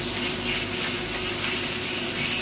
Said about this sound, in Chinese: 均勻啲，勻勻煎煎下佢啊